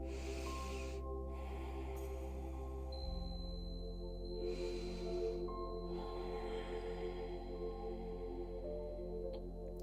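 Slow, deep yoga breaths during a back-focused session, long soft airy inhales and exhales in separate bursts, close and quiet over a low steady background hum.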